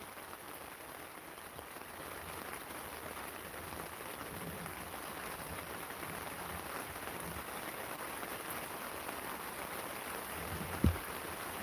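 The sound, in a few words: heavy rain pouring down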